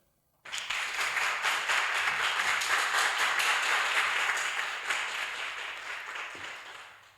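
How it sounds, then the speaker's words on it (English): A small audience of about twenty people bursts into applause for a junior award winner at a presentation night, starting abruptly and holding a steady, close rattle of clapping before gradually tapering. "Well, a great round of applause."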